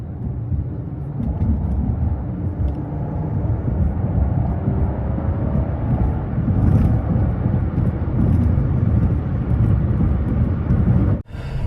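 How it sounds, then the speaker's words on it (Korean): A 2015 Mercedes-Benz CLS 400 gasoline car accelerates hard in sport mode, heard from inside the cabin as a loud, rising engine roar with heavy road and wind rumble that builds steadily and cuts off abruptly at the end. "네, 그러면 가속 한번 해볼게요."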